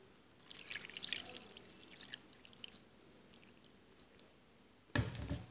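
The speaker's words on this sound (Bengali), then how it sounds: "পরিমাণ মতো পানি দিয়ে দিব।" Water is poured over thinly sliced, washed potatoes with salt for homemade potato chips, a soft trickling pour that ends in a louder splash near the close.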